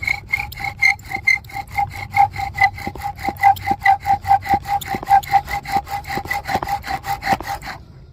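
Rhythmic back-and-forth squeaking friction of a wooden bow drill spindle on wood, a steady fast sawing cadence close by, stopping abruptly near the end.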